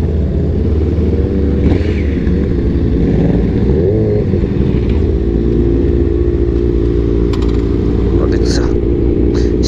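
A motorcycle is ridden slowly into a parking area, its engine holding a steady low throb at close range for about ten seconds, with soft voices underneath.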